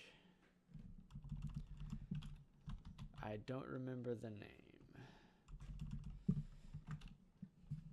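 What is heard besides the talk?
typing on a computer keyboard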